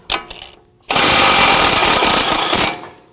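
A power impact tool with an 18mm socket spins off the outer tie rod nut on a Volvo S60, a brief burst followed by a loud sustained rattling whir that cuts off.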